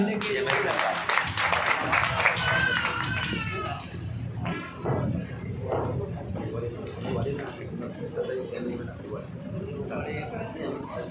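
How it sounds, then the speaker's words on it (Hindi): Audience applause rises at a retirement ceremony, a fairly soft, scattered round of clapping heard beneath an announcer's voice over a busy room. "अभिनंदन करें, जोरदार तालियां।"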